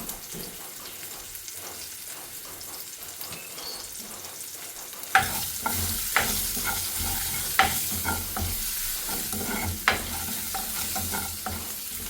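Asafoetida and turmeric hit hot oil for a tempering: quiet at first, then a sudden loud sizzle bursts out and carries on, punctuated by several sharp spoon knocks against the pan.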